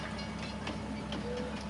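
A train runs in Farming Simulator 19, a faint, steady rumble with light rhythmic clicking, continuous and without voices.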